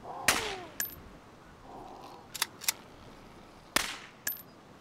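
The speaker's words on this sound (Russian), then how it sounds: "Выстрелы." Sharp gunshots in the video game DayZ crack out in scattered bursts, single shots and quick pairs, over a low steady background hum.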